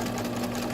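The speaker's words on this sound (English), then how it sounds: "then back stitch back over that spot" A home sewing machine back stitching over a seam on a pajama top sleeve, giving a steady, close, rapid mechanical whir and hum across a brief moment with no talking.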